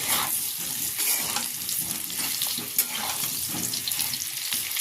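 Cut potatoes hiss and crackle in hot oil in a karahi, a loud, continuous sizzle close by with small spattering pops and faint clinks throughout.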